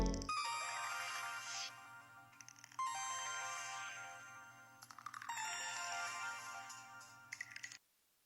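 A bright electronic ringtone melody plays continuously, loud and close, repeating its phrase several times before cutting off abruptly.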